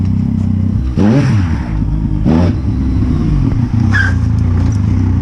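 A quad bike (ATV) engine reversing: a loud, close, rough rumble with short revving surges and some mechanical clatter, no voices.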